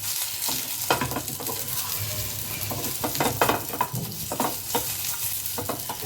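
Masala idli ingredients stirred in a frying pan, a steady hiss of sizzling oil with repeated scraping and clattering strokes of a spoon against the pan, close and continuous, no voices.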